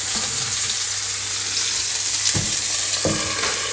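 Chicken wings fry in hot oil with a steady close sizzle and crackle throughout, a few louder bubbling pops breaking through near the end, no voices.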